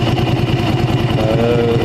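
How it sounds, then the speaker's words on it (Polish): A Honda Shadow VT 125 motorcycle idles steadily up close with its rear airbox tube removed, giving a loud, even throbbing pulse and an audible intake sucking noise. "przez to jest motor też głośniejszy, jeśli chodzi o tą okolicę silnika, bo słychać wyraźnie zasysanie tego powietrza"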